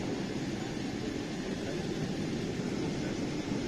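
An Emirates airliner taxis on the runway at Chennai Airport, heard as a steady, broad roar of engine and wind noise from inside the cabin, with a constant drone and no talk.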